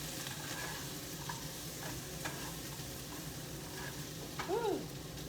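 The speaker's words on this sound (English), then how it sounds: "I can smell these peppers. They're cooking. Let's stir them up a little bit." Peppers fry in a pan with a constant soft sizzle while a utensil stirs them in a few scraping strokes, close and fairly quiet, ending with a brief higher squeak near the end.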